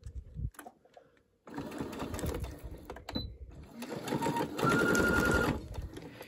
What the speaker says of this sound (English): just start here about 3 inches from the bottom, sewing that 1/4 inch seam